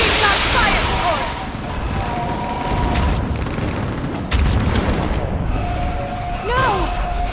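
Fire support in Mass Effect 3 sets off booming explosions and bursts of gunfire across a loud battle, with overlapping impacts, whistling streaks and shouting voices throughout.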